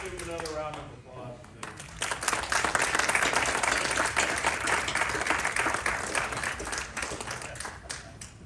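Audience applause at the end of a county Republican Party debate, a crowd clapping steadily for several seconds, moderately loud, after a brief spoken moment at the start.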